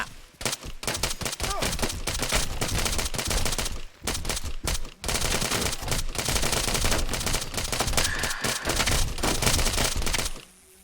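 Dense, continuous automatic gunfire and rapid bursts from an infantry combat video game set among Ukrainian ground forces, loud and nearly unbroken for the whole stretch with brief pauses, no talk.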